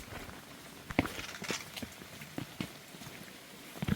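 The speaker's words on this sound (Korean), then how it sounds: "비는 내리고 우리는 빗속을 걷습니다." Rain falls on a misty mountain trail on Mangsan, Geoje, pattering softly under scattered footsteps and sharp drip-like taps that come and go unevenly.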